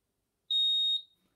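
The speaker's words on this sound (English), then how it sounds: "We're going to wait for a beep now." A single clean, high-pitched electronic beep from a Brother knitting machine sounds for about half a second against silence.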